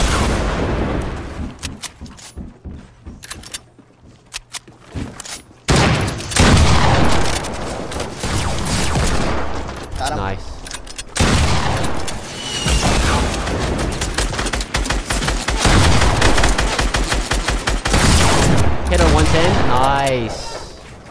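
Rapid gunfire and sniper shots ring out in a fast-paced battle-royale shooter match, loud bursts and single cracks repeating throughout under near-constant excited talk between two teammates.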